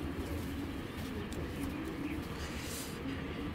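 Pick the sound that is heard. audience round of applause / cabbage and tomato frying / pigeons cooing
pigeons cooing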